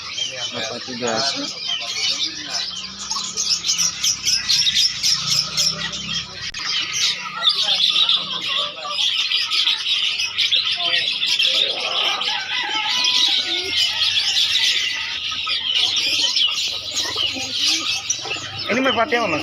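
Pigeons, including puter ladino doves, coo and chirp in cages at a busy hobby bird market in Makassar, a dense layered chorus of calls with occasional wing flaps, close by under people talking.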